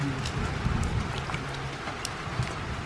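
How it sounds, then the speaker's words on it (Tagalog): Steady heavy rain roars as a dense, constant wash of noise, with a few louder drops standing out and no voices, in the Philippines. "Lumakas na yung ulan."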